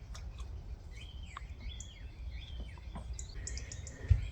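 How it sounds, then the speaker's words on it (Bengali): Birds call and chirp in a quiet village garden: scattered short, high tweets and whistles at a moderate distance over a low, steady outdoor hum, with no talking. "পাখির ডাক ছাড়া কিছুই শোনা যাচ্ছে না।"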